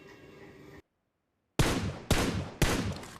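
Gunfire in the video game PUBG, a short burst of shots before a moment of silence and then three loud, closely spaced volleys, each cutting in sharply and fading out quickly.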